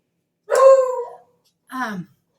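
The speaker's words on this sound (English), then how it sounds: "he's barking at our people being outside" A dog indoors barks at people outside the house, two distinct loud barks close to the listener with a brief pause between them.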